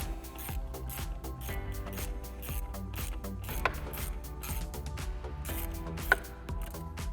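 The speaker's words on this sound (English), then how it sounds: "So I get a 7 millimeter socket on here to loosen this clamp" A ratchet fitted with a 7 mm socket works loose a hose clamp on a Ford F-150 intake, giving quiet, irregular clicking mechanical bursts up close with a couple of sharper snaps.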